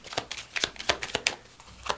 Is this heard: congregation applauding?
no